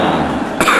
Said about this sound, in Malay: Batuk selalu.